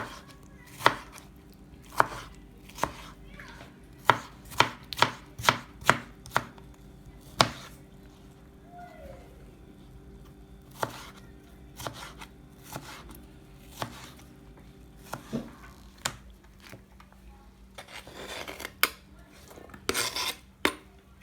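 Sharp, regular knife chops on tomatoes on a cutting board, one after another at a steady pace, with faster clusters toward the end and a quiet background.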